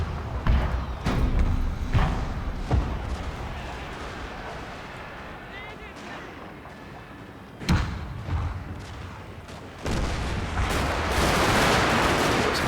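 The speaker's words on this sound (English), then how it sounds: "Close in fire against some spearmen" Musket volleys fired at close range against spearmen in the Shogun 2: Fall of the Samurai strategy game: scattered sharp reports and thumps over a dense, rumbling battle din that swells louder near the end.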